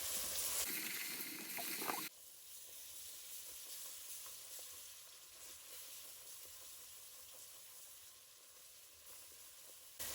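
Vegetables such as celery and green peppers sauté in a pot for gumbo, a steady close sizzle with a louder burst of hiss and stirring early on, then settling into a softer, even frying crackle.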